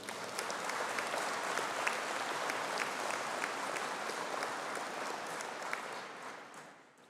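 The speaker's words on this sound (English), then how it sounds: "Could I please have a collective round of applause for the graduates" An audience at a university conferring ceremony for the Faculty of Engineering and Informatics applauds the graduates: a sustained, crowded wash of clapping from a large hall that stays even for several seconds, then fades away at the end.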